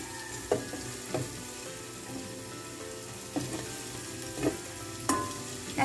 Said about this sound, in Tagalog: At hintayin natin yung maluto yung ating mga ating sibuyas at bawang para mabango siya